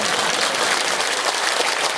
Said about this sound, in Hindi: अब बता दीजिए ताली भर दो